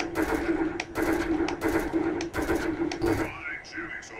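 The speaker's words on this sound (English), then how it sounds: "Fine shooting, soldier." Rapid bursts of gunfire from a first-person shooter, Hybrid Beta, as targets are shot, short repeated volleys in a steady rhythm under a voice talking.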